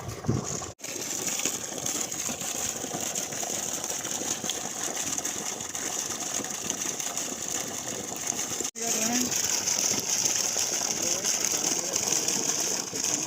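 A 3hp Versil BLDC solar pump sends water out in a continuous gushing rush with a faint mechanical whir, steady and fairly close, with low voices in the background.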